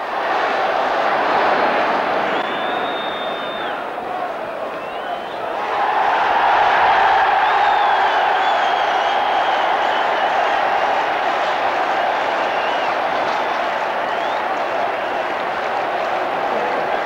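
Football crowd at a Middlesbrough match roars and cheers in a packed stadium, a loud sustained wash of voices that swells louder midway and keeps going throughout.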